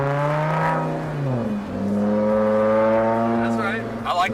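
Loud acceleration from a straight-piped car with a G35 downpipe, the exhaust drone climbing steadily with a brief dip as if shifting, with voices audible over it.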